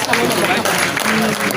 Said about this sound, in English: Please, a round of applause for your chairman.